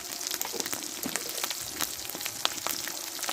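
Spice paste of chili powder, turmeric and salt sizzles and spits in hot oil in a pan for a Bengali potol dish, a busy crackle of close, irregular pops with a faint watery hiss.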